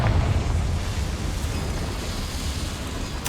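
A Confringo fire spell explodes in Hogwarts Legacy, a loud, broad roaring blast that holds steady for a few seconds, then ends in a brief sharp burst.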